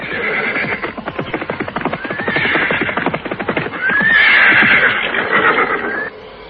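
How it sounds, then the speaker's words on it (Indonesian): Horse hoofbeats clatter in a rapid clip-clop rhythm as a sound effect in an audio drama, with repeated loud neighs and whinnies over the galloping. The sound is close and steady, then cuts off near the end. "mereka mendengar suara derap kuda dari arah depan"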